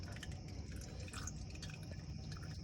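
Engine oil draining from a Nissan R34 during an oil change, a steady trickling, dripping liquid flow that holds constant throughout, close and fairly quiet, with no talking.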